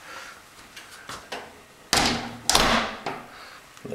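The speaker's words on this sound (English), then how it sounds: "It's got a glass door, heavy glass door." A heavy glass shower door in a renovated master bathroom slides and swings shut with a few light taps and a firm, resonant close, followed by a second solid thud and rattle, nearby with no talk.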